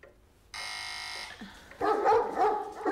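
Dogs barking close by in a house, several loud overlapping barks that follow a steady electronic buzzer tone, like a doorbell or intercom.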